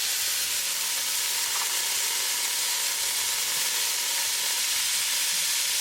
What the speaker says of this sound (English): Now add frozen vegetables.